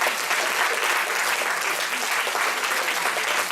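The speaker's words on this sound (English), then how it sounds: "a big round of applause." An audience at a JWRP group event breaks into sustained applause, a dense, even wash of many hands clapping at close range with no pauses.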